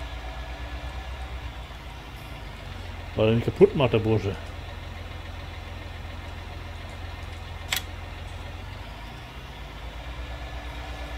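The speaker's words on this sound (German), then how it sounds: "Das ist schön, ich darf schon mit dem Traktor wieder." Tractor engine in Farming Simulator 19, a steady low idling drone running throughout at moderate level, with someone talking briefly over it.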